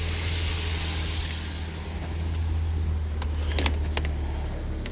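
A 2010 Ford Transit Connect engine idles with a steady low hum, joined by a few brief sharp clicks or ticks near the end.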